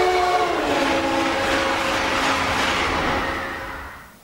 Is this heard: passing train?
yes